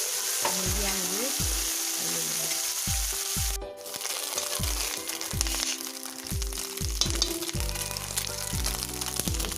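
Fish sizzling in oil in a kadhai on a medium flame, a dense close crackle with repeated clattering spatula strikes against the pan, briefly dipping quieter midway before the stirring resumes.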